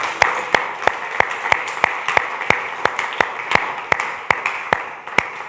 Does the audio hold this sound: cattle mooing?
no